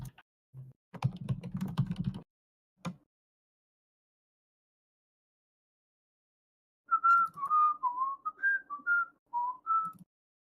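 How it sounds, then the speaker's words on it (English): A person whistles a short, wavering tune into a poor-quality microphone, after a burst of keyboard typing and a brief clatter, with a gap of silence in between. "I didn't realize how bad that whistling would sound"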